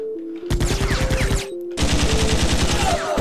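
Rapid automatic gunfire from a gun in the video game Iji, two loud sustained bursts of evenly spaced shots with a brief pause between them, set against electronic game music.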